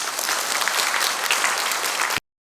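An audience at a rural basic income coalition launch ceremony gives a big round of applause, a full burst of clapping that cuts off abruptly into silence.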